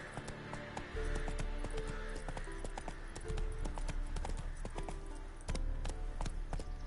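Hooves clop rapidly and rhythmically as a horse gallops in the video game The Witcher III, with steady beats over a low rumbling background and a few faint game sounds.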